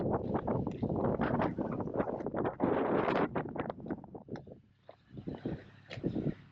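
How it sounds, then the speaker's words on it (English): Gusty wind buffets and roars steadily against the microphone, rising and falling in loud rushes with no voices. "Windy on Mars."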